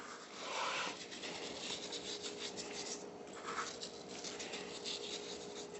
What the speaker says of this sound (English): We're going to put it down, do the sides, rub it in.